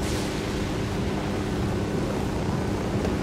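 A helicopter in the video game Ghost Recon Wildlands, its airframe riddled with bullet holes, gives a steady, dense rotor and engine roar that fills the whole clip without a break.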